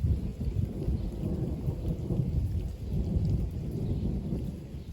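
A violent summer thunderstorm ending with rumbling thunder over steady heavy rain, a loud rolling low roar that swells and eases across the whole stretch, with no voices.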